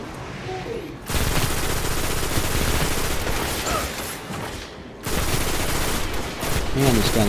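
Sustained automatic gunfire from a gun in the video game Destiny roars loud and close, with a brief pause before a second long burst and game sounds underneath.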